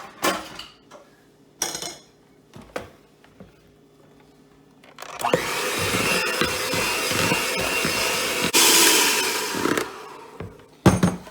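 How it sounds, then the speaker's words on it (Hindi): A hand mixer beats butter in a bowl, whirring steadily for several seconds, buzzing and rattling against the bowl, preceded and followed by brief clinks and knocks. "अब मैं मक्खन लेंगी और इसको अच्छी तरह से फेंटूंगी अपने हैंड मिक्सर के साथ"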